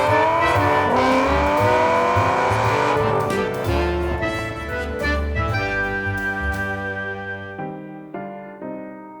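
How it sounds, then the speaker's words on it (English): A Saab 99 car driving, its engine droning loudly and steadily with rising and falling revs and a smooth tonal whine, fading toward the end. "That is a Saab 99."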